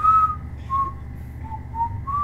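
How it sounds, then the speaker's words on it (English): A man whistles a short series of clear, clean tones, several brief notes in sequence, fairly near and loud over a low rumbling background. "He's now whistling."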